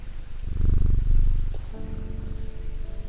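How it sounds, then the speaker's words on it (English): A cat purrs as it is petted in the video game Strange Antiquities, a soft low rumble that swells for a second or two over light ambient rain and then fades. "That was a good purr."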